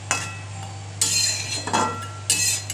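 A metal lid set down on a pot of muri ghonto with fish heads and potatoes, giving a few sharp clanks and clatters in quick bursts over a low steady hum.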